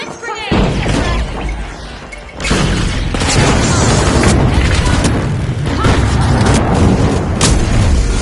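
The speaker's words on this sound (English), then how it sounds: "Blitz grenade." Blitz grenade explosions in The Finals arena game: a sharp blast near the start, then a second heavier boom that swells into sustained loud crashing and rumbling debris, with a voice faintly under the chaos.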